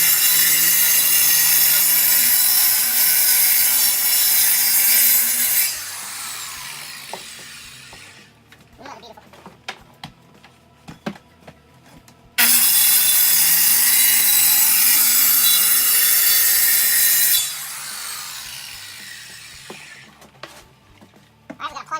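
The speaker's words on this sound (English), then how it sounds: "using a circular saw, I set the depth just to cut past that material" A plunged circular saw cuts through wood in a room under construction, making two long, loud, harsh whining passes of about five seconds each, with quieter stretches of knocking and handling noise between them.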